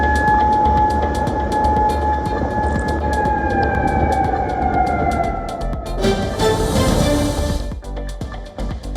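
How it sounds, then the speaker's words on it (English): Warning sirens sounding in Bahrain amid missile and drone threats: a sustained wailing tone with a slowly sliding pitch runs over heavy low rumble and crackle, with a burst of broadband noise partway through. "In Bahrain, authorities activated warning sirens"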